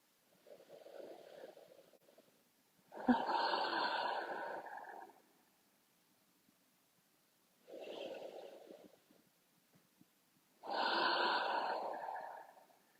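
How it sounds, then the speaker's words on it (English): Slow, deep yoga breaths come in four long, close, airy swells, each lasting about two seconds and separated by quiet pauses, with no talking. "3 deep breaths here."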